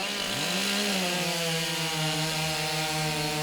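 A STIHL chainsaw bites into timber in a stock saw heat at the 2025 New Zealand STIHL Timbersports competition; its loud, steady engine whine climbs in pitch and then holds at full revs throughout.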